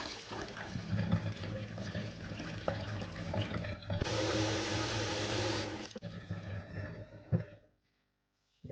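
Water runs and splashes in a bowl as soaked urad dal is rinsed by hand, a continuous close rushing and sloshing that swells into a steady tap stream midway before stopping abruptly.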